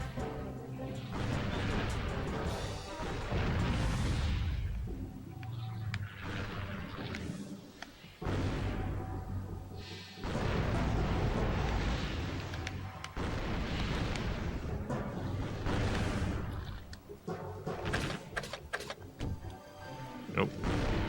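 Enemy warship guns firing in the PS2 naval combat game Naval Ops: Warship Gunner, a dense run of heavy booms and blasts with a player talking over much of it.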